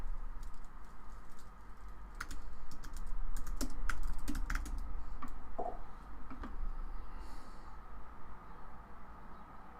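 Typing on a computer keyboard to search for an earthquake tracker: bursts of quick, light key clicks over a steady low hum of room noise, close and fairly faint, with no talk.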